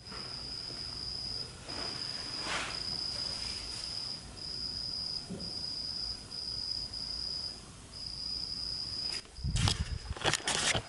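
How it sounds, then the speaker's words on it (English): A cricket sits indoors in a fan and chirps in a high, steady pulsed trill. It is fairly faint and repeats through the stretch, with a few brief rustles and knocks near the end. "there's this crazy grasshopper cricket chilling in my"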